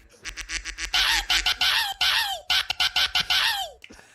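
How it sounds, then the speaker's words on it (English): Repeated cartoonish quacks of the Discord quack sound effect, loud and close, come in rapid bursts with short gaps between them, and no one talks over them. "There's quack."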